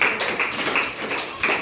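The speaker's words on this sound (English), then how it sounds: "Clap for her." A classroom of eighth-standard students gives a short, sparse round of clapping for a classmate, with a few separate hand claps spread unevenly over a second and a half.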